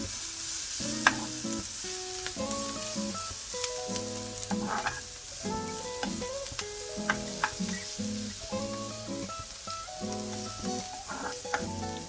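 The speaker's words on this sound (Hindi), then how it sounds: "So after adding everything, all the spices, we are just going to give it a mix" Chicken samosa filling with spices being stirred in a pan, a soft, steady sizzle with light scraping throughout, partly under continuous background music.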